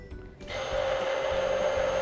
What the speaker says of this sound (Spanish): vamos a emulsionar con una licuadora de inmersión